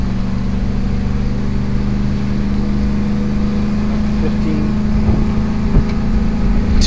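Engine of a 2011 Ford F350 pickup with the 6.2 L gas V8 pulling uphill, a loud, steady drone with a constant low hum throughout and no talk.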